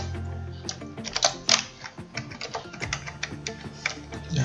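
A password is typed on a computer keyboard in a quick, irregular run of close key clicks and taps, some sharper than others, with no talking.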